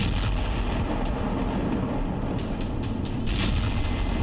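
Heavy 2000-pound bombs strike Isfahan, Iran at night, producing a dense rumbling barrage of deep booms and sharp cracks, several distinct blasts over a continuous low roar.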